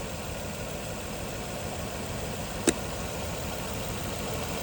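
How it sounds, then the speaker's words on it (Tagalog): A car engine idles with a rough, uneven misfire, a steady low rumble close by with one brief sharp tick partway through. "So ganun pa rin, malikot pa rin yung makina."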